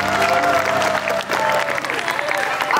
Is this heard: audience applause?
yes